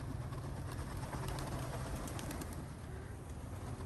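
Racing pigeons out for exercise coo and stir near a loft, a soft, continuous murmur of low cooing and rustling wings under a steady outdoor hiss, with no one talking.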